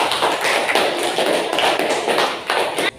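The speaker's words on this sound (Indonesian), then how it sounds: "kita beri aplaus untuk kelompok 1" Dense classroom applause for a student group fills the space, many hands clapping steadily and loudly throughout, with no clear talk over it.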